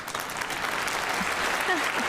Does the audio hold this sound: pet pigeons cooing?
no